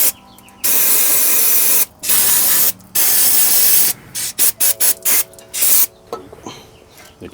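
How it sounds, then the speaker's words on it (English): Close, loud hissing sprays from an aerosol can of brake cleaner onto a third-generation Toyota 4Runner's front brakes, three long bursts followed by a series of short rapid squirts. "then you want to spray some brake clean on it."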